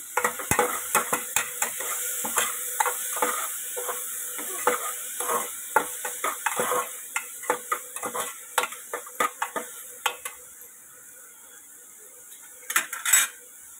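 A spoon stirs chhole bhaji with turmeric and salt in a pan, giving repeated close metallic scrapes and clinks in an uneven rhythm over a faint sizzle, with no talking.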